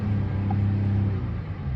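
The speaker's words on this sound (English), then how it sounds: "So we're gonna rev it a little bit." A Dodge Charger GT's engine runs close by with a deep, steady low rumble and a slight rise in revs, smooth and continuous without speech.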